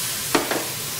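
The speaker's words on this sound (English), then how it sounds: "Give that a little stir." Softly sweating vegetables in a pan give a steady faint sizzle, broken by two quick, close scrapes of a stir.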